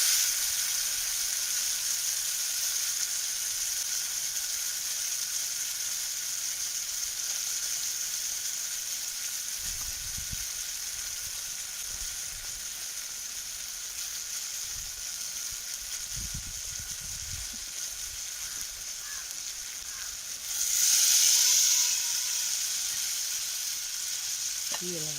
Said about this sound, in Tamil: தேங்காய் போடுறேன்.